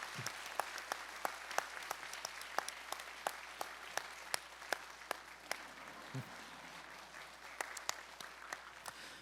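A church congregation applauds at a faith-training graduation ceremony: a steady run of scattered, fairly faint hand claps with a few sharper single claps standing out, heard from a distance in a large hall.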